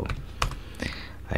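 Keys clack on a computer keyboard in quick, uneven taps close by, with a voice talking at the same time.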